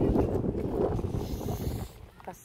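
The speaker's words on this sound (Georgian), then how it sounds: "ქარი რო არისო დედიკო" Wind gusting at a seaside beach at Anaklia on the Black Sea, a steady, fairly loud rush that buffets the microphone close up, easing slightly toward the end.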